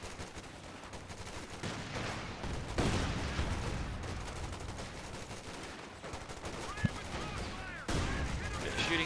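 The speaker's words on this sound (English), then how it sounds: "Bit of shooting there." Scattered gunfire and bursts of shooting in the strategy game Company of Heroes 2, a 1v1 match with OKW forces, sounding mid-distance and continuous under battlefield noise, with a louder sharp report near the end.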